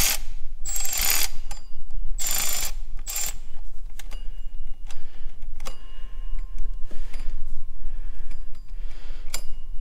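A ratchet wrench with a swivel socket clicks in rapid bursts on a bolt of the power steering pump of a 2006 Chevy Uplander, close and loud, with metallic clinks and pauses between strokes.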